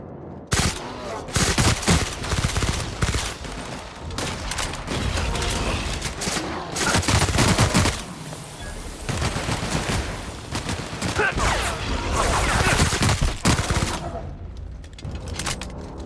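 Sustained bursts of gunfire in the sci-fi video game The Outer Worlds, loud and rapid volleys with mechanical clatter, brief lulls between bursts, and a shout partway through.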